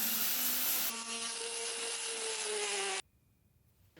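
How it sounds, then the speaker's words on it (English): Hardwood bead being sanded by hand with sandpaper, a steady close-up rubbing hiss for about three seconds that then stops abruptly, with no voices. "take a piece of sandpaper, like so, now I'll flip it over."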